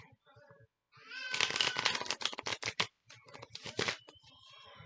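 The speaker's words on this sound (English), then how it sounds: "you're gonna have to, like, spring the cards and then shuffle it" Deck of playing cards being spring shuffled, a quick rippling flutter of cards in two bursts, close and soft, with a little talking around it.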